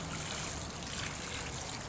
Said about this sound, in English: So we're going to take what I have left in the watering can